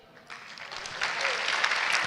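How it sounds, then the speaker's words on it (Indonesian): Stand-up comedy audience breaking into applause, starting after a brief quiet moment and swelling into a fuller wave of clapping that builds and holds to the end. "Yang pernah naik pesawat boleh minta tepuk tangannya?"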